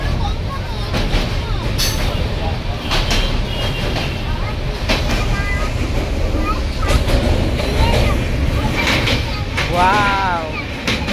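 Kanchan Kanya Express rumbling along the rails, a steady low roar with rhythmic clicking from the wheels and occasional sharp metallic squeals, and voices talking over it.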